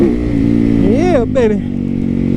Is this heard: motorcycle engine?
yes